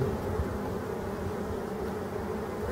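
A black drone honeybee flying near the hive, a continuous low buzzing drone close by with no voices.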